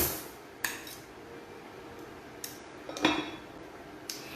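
A metal spoon clinks against a pot of organic Spanish chorizo stew, several light, sharp taps spaced irregularly over a quiet background, with one louder scrape-and-clink cluster partway through.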